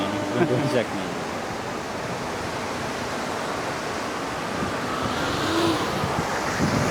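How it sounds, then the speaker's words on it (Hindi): Fast-flowing Swat river water near Thal in Upper Dir, Pakistan, running high after a recent flood: a steady broadband rushing roar that holds continuously throughout, loud and close. "काफ़ी तेज़ पानी चल रहा है।"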